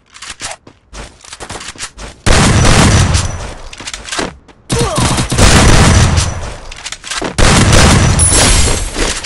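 Gunfire in the battle-royale shooter Free Fire, with sparse early shots building into loud, dense bursts of rapid fire and booms in several sustained volleys, close and harsh with no talk.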